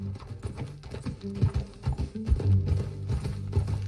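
Horse hooves clip-clop in an uneven walking rhythm in Red Dead Redemption 2, close and fairly soft, with a few louder thuds and no voices.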